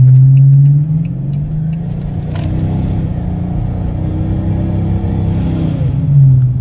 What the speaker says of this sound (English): if you just listen to the engine there